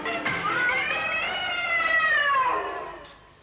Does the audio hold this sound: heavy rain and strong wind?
no